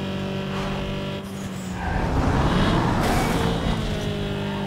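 A car engine in the video game Need for Speed Underground 2 holds a droning tone, then swells into a rougher, louder roar with tire noise, steady and close.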